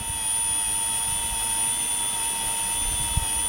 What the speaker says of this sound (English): You can clearly hear that the engine is actually changing the speed all the time.